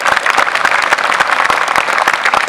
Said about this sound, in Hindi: बजाओ ताली जोरदार।